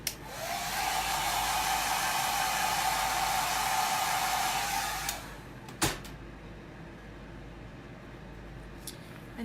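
A hair dryer blows steadily on a painted nutcracker for about five seconds, a loud continuous whoosh that cuts off, followed by a sharp knock and quiet room noise.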